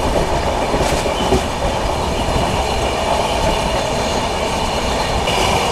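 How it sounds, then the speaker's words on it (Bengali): Howrah–Titlagarh Ispat Express rolling along the rails, a steady loud rumble with continuous wheel-and-track clatter filling the whole stretch, heard from inside the moving train with no talking. "ট্রেন কিন্তু মোটামুটি ভালোই যাচ্ছে।"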